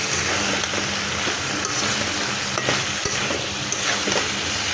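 Mango and taro stolon curry stirred while frying in a pan, giving a steady loud sizzle with occasional scrapes and knocks of the spoon, close up and continuous with no voices.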